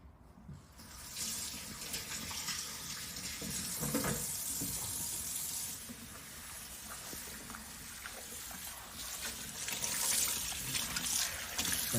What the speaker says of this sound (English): we're just going to rinse it in cold water